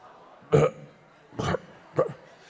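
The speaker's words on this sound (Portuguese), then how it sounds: "Fala comigo assim, arrotando." Three separate burps from a person acting out being full after a meal, each one short and close, about a second apart and fading slightly, with no speech between them.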